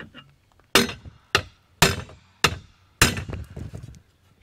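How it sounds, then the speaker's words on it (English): A hammer strikes pressed-in exhaust bolts on a GMC Sierra 1500 pickup with 290,000 miles, five sharp, loud, close metallic whacks spaced about half a second apart, the last one ringing with some rattle. "we should be able to take a hammer with a few good whacks and pop those out"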